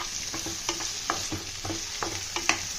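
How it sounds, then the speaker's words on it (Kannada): Onion and tomato frying in a pan, a steady close sizzle broken by repeated stirring scrapes roughly every half second, with no voices. "ಸೊ ಹಾಗಾಗಿ ಟೊಮೆಟೊನ ಹಾಕಿ ಫ್ರೈ ಮಾಡ್ಕೊತೀನಿ."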